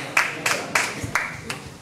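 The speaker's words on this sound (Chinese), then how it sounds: "大家掌声欢迎" Audience at a lecture on Taiwan's medical history clapping in a few distinct bursts, roughly five sharp claps spaced evenly about a third of a second apart, moderately near, with faint room murmur between them.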